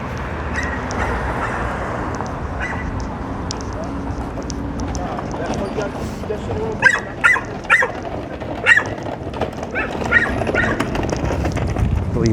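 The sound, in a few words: loud dog barking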